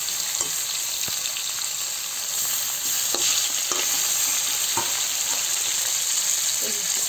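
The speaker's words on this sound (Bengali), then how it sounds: "আমার তো যা ফোটে তেলে দিয়ে, আমি তো তেলে ভেজে দিই।" Pieces of wallago catfish fry in a modest amount of oil, giving a steady bright sizzle throughout with occasional soft clicks and spatters as the fish settles in the pan.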